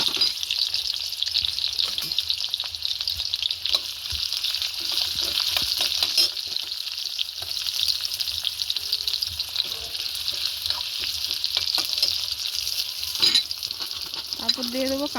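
Chopped onion fries in hot oil in a pan for a crab dish, a dense continuous hiss and crackle up close, with occasional stirring scrapes and knocks throughout and no speech.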